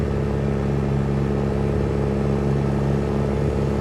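Modded truck engine in American Truck Simulator, a WS 5700 Xe Long Haul cruising with a steady low droning rumble that holds even and continuous throughout, with no talk.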